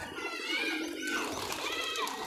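Giribaz pigeons coo and call in a short stretch, several soft rising-and-falling calls at close to moderate distance over steady background noise, with faint wing or rustle sounds.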